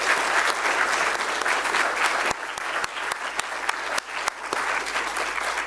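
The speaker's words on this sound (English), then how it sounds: "spare a clap or two for myself" An audience applauds steadily at the close of an evening panel on fossil-free investments, with dense clapping throughout and a few sharper individual claps standing out near the end.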